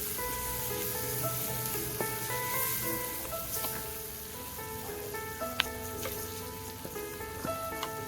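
Chillies fry in oil in a clay pot, giving a soft, steady crackling sizzle with scattered pops, faint and close, with no talk over it.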